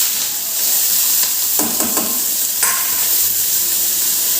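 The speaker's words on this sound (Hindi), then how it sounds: "तो मैं नॉर्मल से प्याज मिर्ची फ्राई करूँ।" Onion and chili frying in hot oil in a wok give a steady, close sizzle and hiss, with a few scraping stirs partway through.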